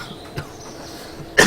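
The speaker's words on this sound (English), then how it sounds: "Oh, excuse me. A bit of a cough." A single sharp cough bursts out close and loud at the end, after a quieter throat sound earlier, with no talking.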